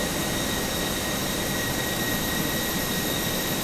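Steady broadband roar of Airbus A320 jet engines in Easyjet livery, heard from outside the aircraft in Flight Simulator 2024, constant and even throughout with no voices.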